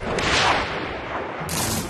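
Gunfire in the South Park: The Stick of Truth video game, two loud booming bursts close together, the second starting just after the first fades.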